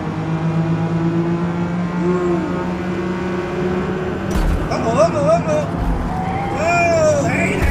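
A 2002 Nissan Skyline GT-R V-Spec race car engine drones steadily in a racing video game, rising with revs and tire noise near the end while a voice talks over it.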